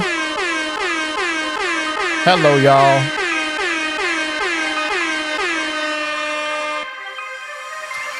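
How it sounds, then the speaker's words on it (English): Loud, repeated air horn blasts in a rapid, pulsing rhythm, with a brief lower honk midway and a short spoken greeting near the end. "we got a multitude of air horns on the way in"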